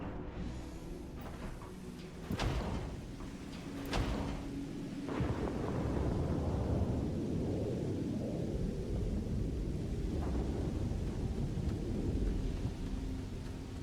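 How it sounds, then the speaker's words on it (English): Thunder in the video game Starfield opens with sharp cracks of nearby lightning, then a long, deep rumble rolls on loudly under steady rain-like noise. "Ooh, lightning."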